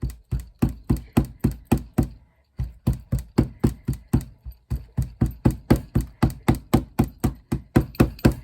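Clay for Delft clay casting is chopped with rapid, evenly spaced thuds in a steady rhythm, close up, with a brief pause partway through and no talking.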